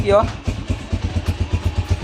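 A 1999 Bajaj Platino motorcycle engine catches and settles into a fast, even thumping idle, loud and close, with a brief voice at the very start.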